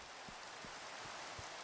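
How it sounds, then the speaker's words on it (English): Rain falls steadily in a farming video game, a soft continuous hiss with a few faint low thumps, no voices. "oh, it's raining."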